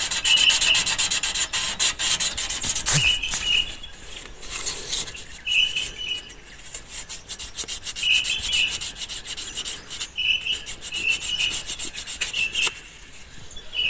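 On a Bedford truck, the end of a distributor rotor button is rubbed with 1200 grit sandpaper in quick, continuous close scratching strokes, with birds chirping faintly in the background.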